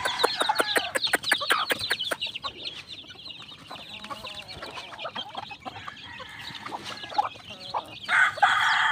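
Red junglefowl, caged with a hen, cluck in a rapid burst of sharp repeated notes, then scattered softer clucks and calls nearby, no talking.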